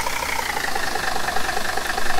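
A Mercedes Sprinter service van idles in Farming Simulator 2015, its engine giving a steady, even mid-pitched hum with a faint knocking texture, close and continuous throughout, with no talking.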